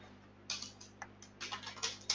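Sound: computer keyboard typing

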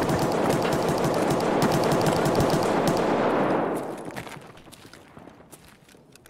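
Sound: gunfire in the video game Escape from Tarkov

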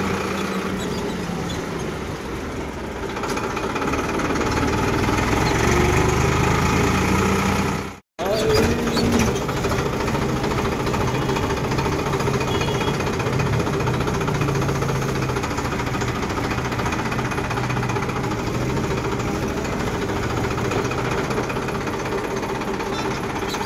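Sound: tractor engine running

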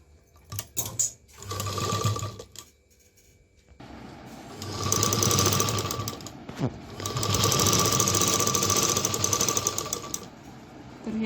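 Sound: sewing machine stitching a handkerchief pocket

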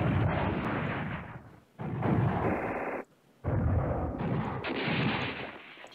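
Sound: artillery fire and explosions in the video game Command Ops 2

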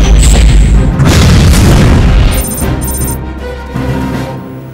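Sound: weapons firing blast in movie trailer

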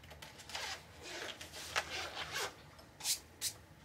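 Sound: zipper of a marker case opening

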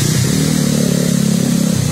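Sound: motorcycle engine revving in the rain

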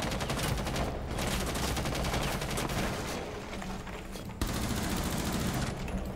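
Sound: gunfire in Rainbow Six Siege (video game)

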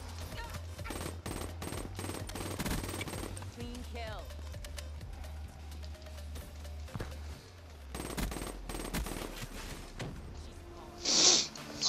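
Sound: gunfire from the video game Black Ops 3

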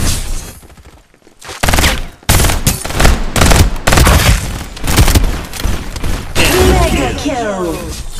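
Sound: gunfire and artillery in video game Farlight 84

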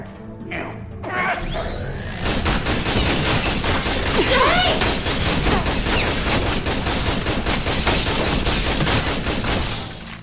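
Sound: guards' gunfire in video game Tales from the Borderlands

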